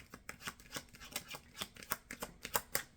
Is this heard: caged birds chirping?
no